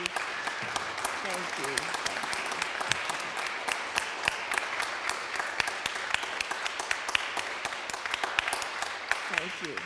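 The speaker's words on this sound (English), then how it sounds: "Put your hands together for Dr. Madgett" Audience applause after a poetry reading honoring Dr. Naomi Long Madgett, dense steady clapping from a crowd lasting throughout, moderately distant, with voices faintly mixed in.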